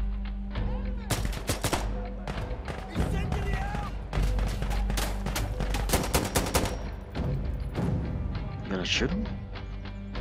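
Rapid gunfire rattles through a co-op match of the shooter Sandstorm, with loud, close bursts and scattered single shots while players talk over the firefight.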